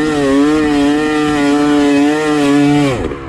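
A dirt bike engine revs hard and loud while being ridden, holding a sustained buzzing drone with slight pitch wobbles before the throttle drops off sharply near the end.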